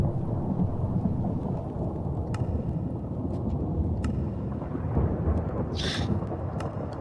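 Thunder rolls through a rainy Minecraft RLcraft modded world, a broad continuous rumble with steady rain hiss and a few sharp cracks, with no talking.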